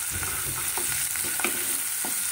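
Chopped onions lightly frying in oil for paneer bhurji, a steady close sizzle broken by soft scrapes and taps of a spatula stirring the pan, with no talking.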